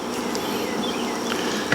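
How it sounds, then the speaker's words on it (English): Honey bees buzz around hives in a small outdoor bee yard, a steady layered hum with individual bees passing close now and then. "Nice little yard of bees."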